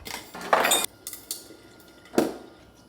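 Glass of water being made in a kitchen, with a few clinks of glassware and bursts of running tap water pouring, close and fairly loud, no talk.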